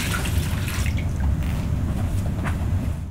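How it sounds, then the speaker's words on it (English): Rinse water from a wash basin pours into a toilet or bedside commode, a continuous close splashing and gurgling stream that stays steady and fairly loud throughout, with no voices. "The wash basin is then rinsed, with the contents going into the toilet or bedside commode."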